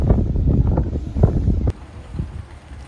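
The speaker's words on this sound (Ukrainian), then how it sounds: "сьогодні вітер сильніший" Strong seaside wind in Hurghada buffets the microphone in loud, continuous gusts, with the roar of the rough sea mixed in; the blustering drops abruptly to a lighter rush partway through.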